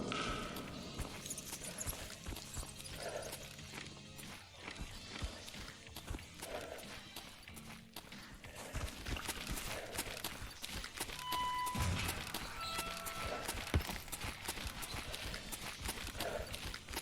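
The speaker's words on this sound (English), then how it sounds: "I like those Tarkov footsteps. They sound nice." Footsteps in the video game Escape from Tarkov, a steady run of close, crunchy steps through the whole stretch, with scattered game noises and a brief tone in the middle.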